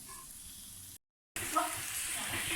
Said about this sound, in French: Après suer les légumes un petit peu, on rajoute la viande hachée avec.